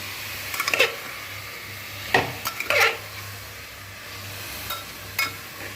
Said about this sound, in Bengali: তারপরে একটু নাড়াচাড়া করি।